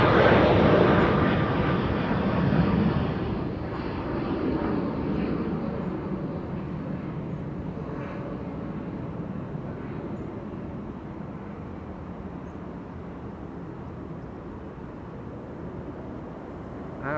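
American Airlines flight 283 jet at Amsterdam Schiphol Airport, a loud broad engine roar that slowly fades as it moves away, steady and without speech.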